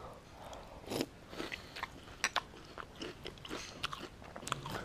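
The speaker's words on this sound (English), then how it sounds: "That sound is just from chewing." Close, dry crunching and biting of crunchy cereal, a steady run of sharp crackly chews with louder bites scattered throughout, quiet and alone with no talk.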